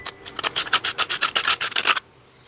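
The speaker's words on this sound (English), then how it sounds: "now let's make the ring for the bowl. Cut it with a hacksaw blade" A hacksaw blade saws through a coconut shell ring in a quick run of about a dozen rasping back-and-forth strokes, close and steady, stopping abruptly near the end.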